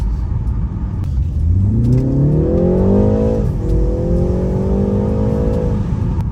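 A BMW tuned for sharper throttle response accelerating hard from inside the car, the engine note rising steadily, dipping briefly at a gear change, then climbing again, loud and continuous with no talking.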